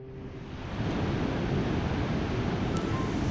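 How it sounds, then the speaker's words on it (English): Rushing river water at the Deschênes Rapids, running higher and more powerful than usual during the 2019 Ottawa–Gatineau flooding, heard as a loud, steady broadband roar that swells after the first second and stays constant. "The rapids are a lot higher and more powerful than usual."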